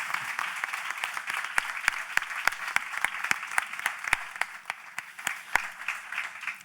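Audience applause fills a conference hall at a cystic fibrosis mental health congress, a steady dense clapping with sharp individual claps standing out, sustained evenly and close throughout.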